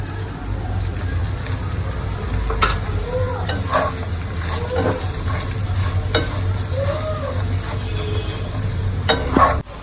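Bitter gourd and potato fry with turmeric in a pan, a steady sizzle broken by scraping stirs and a few sharp clinks of the utensil against the pan, close and fairly loud.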